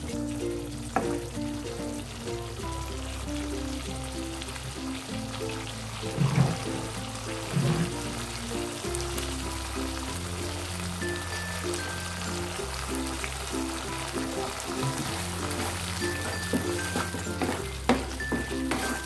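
Sweet and sour shrimp in a pan, sizzling and frying steadily as the sauce cooks down, with occasional stirring and utensil clatter over a bed of background music.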